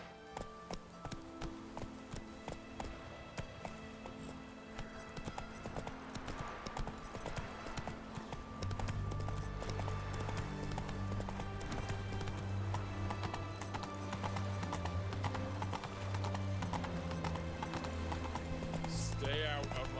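Roach the horse gallops in The Witcher video game with rapid, rhythmic hoofbeats. A low rumble builds underneath partway through, and speech comes in at times.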